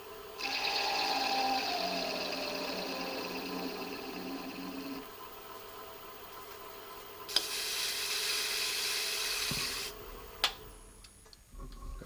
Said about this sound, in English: working on the centre line with the bud cutter